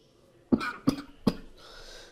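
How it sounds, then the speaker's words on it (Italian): Three sharp, close coughs spaced about a third of a second apart, followed by a quiet room hum. "muoio per la tosse"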